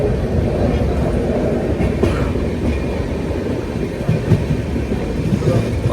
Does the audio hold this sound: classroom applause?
no